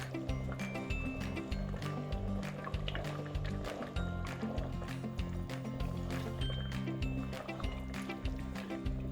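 Vegan arroz caldo, a Filipino rice porridge, boils in a pot with close, continuous bubbling and popping that keeps going throughout.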